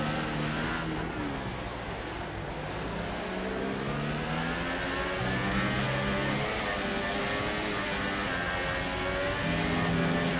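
A race car in a racing video game over-revs hard and holds near the limiter, its mid-pitched engine whine climbing and wavering steadily and loudly for the whole stretch with no talk over it.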